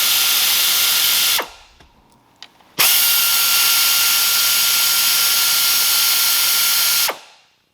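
A power tool with a 10mm socket spins out coil pack bolts on a 2013 Honda CR-V, two loud, steady whirring runs separated by a pause with faint clicks.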